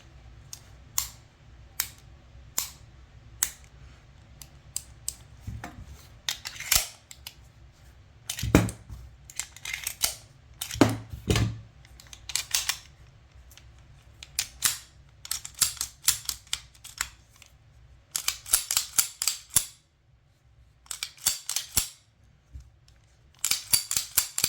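Colt Combat Commander 9mm pistol firing a string of sharp, separate shots outdoors, loud and close, with short pauses between bursts and a few quicker pairs near the end.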